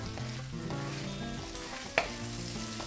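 Whole bird's eye chilies, garlic and red chilies sizzle in hot oil for a shallot and anchovy sambal, a soft continuous hiss under a low tonal hum, with one sharp clack near the end.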